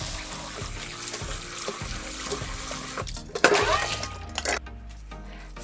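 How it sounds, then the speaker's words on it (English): Chopped napa cabbage and radish are rinsed in water for Korean water kimchi, close splashing and sloshing of the vegetables in a bowl with a few hard clatters, and running water toward the end. "Wash the chopped cabbage and radish once in water."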